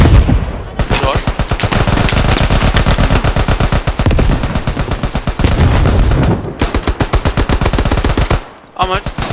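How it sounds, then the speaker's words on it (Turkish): Rapid automatic weapon fire rattles loudly and almost continuously in the First World War video game Beyond The Wire, bursts packed tight with only brief gaps, a final lull near the end. "Mermi sesleri falan silahların güzel yapılmış."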